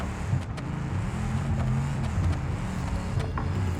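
A taxi on race slick tyres in BeamNG.drive, its engine held at high revs as it struggles through deep mud, a steady loud droning growl with little variation and no talk over it.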